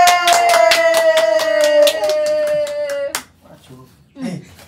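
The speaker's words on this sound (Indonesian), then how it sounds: "nah, tepuk tangan ye." Family members at a child's birthday celebration clap in a quick, sharp run of about a dozen claps over a sustained sung or hummed tone, followed by a pause and brief talking.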